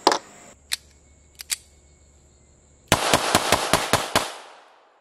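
Walther PP .380 ACP pistol firing at an outdoor range: a few scattered sharp shots, then a quick string of about six close, crisp reports in a steady rhythm, with faint clicks and other shooters' distant shots between.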